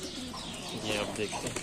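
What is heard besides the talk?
fantail pigeons cooing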